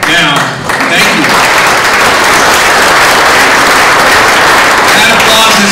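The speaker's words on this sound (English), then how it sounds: "That applause isn't for me" Sustained, dense applause from a large audience fills the space loudly and evenly, dipping briefly near the start before continuing unbroken.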